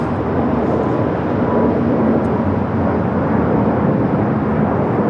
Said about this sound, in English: KLM 601 coming in from Amsterdam on the 787-10 Dreamliner